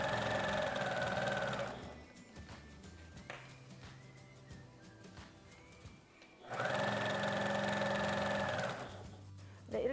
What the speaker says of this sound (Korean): 시접을 펼쳐서 가름솔로 나누어 주시고 해서 원통형으로 길게 봉제를 해서 끈으로 만들어 줄게요